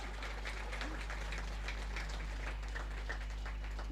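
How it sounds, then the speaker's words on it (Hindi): A crowd applauds the parade commander at a police recruits' passing-out ceremony in Lucknow. The clapping is faint and distant, a continuous patter under a strong, steady electrical hum. "सबसे पहले आपकी तालियों के बीच हम बुलाना चाहते हैं तृतीय परेड कमांडर संतोषी कुशवाहा जी को"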